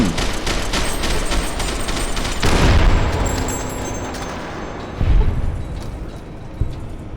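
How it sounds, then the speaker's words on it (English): Dynamite blasts in a video game, loud dense crackling roars with heavy booming hits at intervals, one large blast early, then a fading rumble punctuated by further thumps. "I have dynamite. Dynamite will help."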